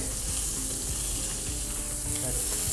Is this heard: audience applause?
no